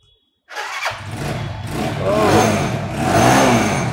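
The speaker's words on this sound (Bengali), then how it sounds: "যেভাবে গাড়ি রিমোট সিস্টেম, রিমোট সিস্টেম মানে আউ টোকায় টোকায় স্টার্ট।" A motorcycle engine fired up by a remote start system catches abruptly after a brief silence, then idles and revs loudly and close, with a rough, deep tone.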